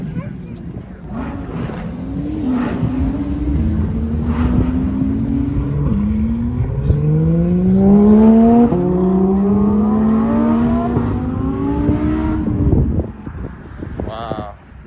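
Lamborghinis at a Ferrari car show rev loudly and pull away, engine pitch climbing in repeated sweeps, near and strong, with voices talking over the noise.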